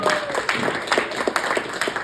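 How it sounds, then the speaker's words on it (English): Audience members at a public reading clap together in brief, uneven applause that carries at moderate volume and then tapers off. "You don't have to clap for that"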